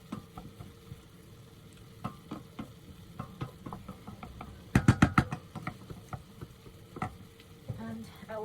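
Beef stir-fried in a pan over medium-high heat crackles with a steady sizzle, broken by sharp scraping and knocking strokes of stirring, with a loud burst of clattering around the middle; no one speaks.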